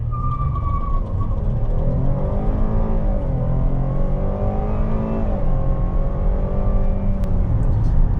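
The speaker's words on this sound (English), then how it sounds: "So I'm gonna do some quick accelerations." A 2020 Cadillac XT6 with a 3.6 engine and all-wheel drive accelerates hard from a standstill toward 60 mph, its engine note rising steadily through the gears in a smooth, continuous drone heard from inside the cabin, with no talking.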